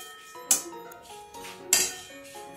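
Panch phoron and dried chillies being stirred in a dry pan, with two sharp metallic clinks of utensil on pan over a faint rattle, close and clear, without talk.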